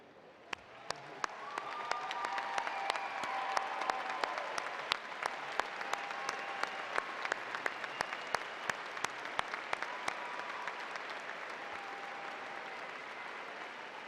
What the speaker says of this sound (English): please stand and applaud the newest members of our UNI family